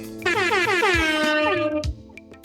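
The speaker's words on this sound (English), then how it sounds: "the air horn is definitely appropriate" A podcast air horn sound effect blares, sweeping downward in pitch, loud and sustained for about two seconds, with a deep low boom underneath, then trails off.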